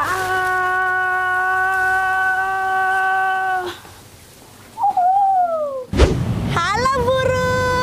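A goose calls in a series of loud, nasal honks, first a long steady tone and then shorter rising cries after a brief quiet gap, with a sharp bang partway through.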